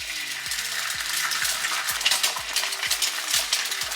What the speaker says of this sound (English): I'm going to add 2 eggs to the pan. So they cook slowly.